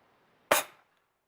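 A toy pistol fired once outdoors, a single sharp snapping pop with a short fading tail, close by and otherwise quiet.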